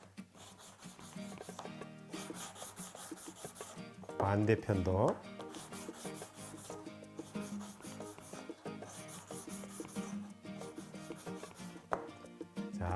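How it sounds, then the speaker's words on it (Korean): Sandpaper rubs the sharp corner of a wooden auxiliary board during a beginner woodworking class making a wooden speaker. The scraping is steady and soft under talk and background music. "이 보조판도 이 귀퉁이가 이렇게 날카롭게 된 부분이 있으면 얘도 한번 사포질로 손질을 해 두시는 게 좋을 것 같아요"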